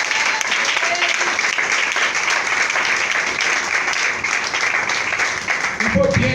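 A church congregation applauding and acclaiming during a worship service, with loud, continuous clapping mixed with voices calling out, sustained evenly throughout.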